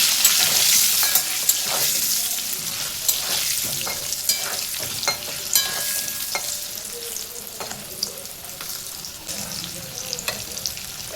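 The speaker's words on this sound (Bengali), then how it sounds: "নুন হলুদ দিয়ে আলুটা লাল লাল করে ভেজে নেব।" Potato pieces fry in hot oil with salt and turmeric for a mutton curry: a loud, steady sizzle with frequent sharp clicks and scrapes of stirring, and no talking.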